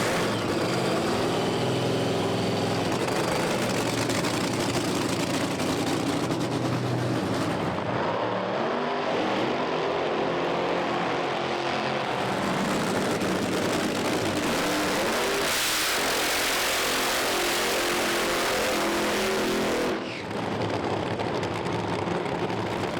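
Funny Car drag racing engines firing up at Santa Pod Raceway, a loud sustained roar of nitro-burning motors with bursts of revving and crackle, continuous and close throughout.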